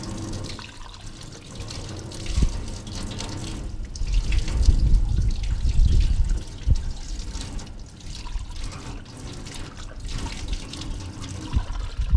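Tap water running into a sink while dishes are washed up, a steady close rushing flow with occasional clinks and splashes, swelling louder in the middle and continuing without any talk.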